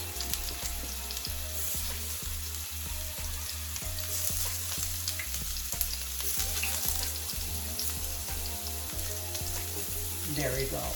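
Brussels sprouts and cashews browning in a hot pan, giving a steady, close sizzle and crackle of frying with occasional soft stirring clicks, loud and continuous throughout.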